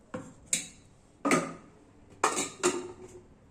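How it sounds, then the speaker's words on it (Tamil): Pots and dishes being washed by hand with dish liquid, giving about six sharp metallic clanks and knocks at irregular intervals, close and moderately loud, with quiet gaps between them. "டிஷ் வாஷர் இல்லாட்டி நம்ம பாத்திரங்கள் லிக்விடில் கழுவிக்கலாங்க"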